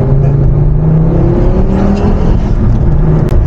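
A 320-horsepower Ford Focus RS Mk2 engine roars loudly and steadily, revving with a gritty, constant drone.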